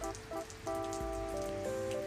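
Rain patters softly on surfaces in a cozy Steam game, a gentle steady hiss of drops sitting under sustained musical tones at low volume.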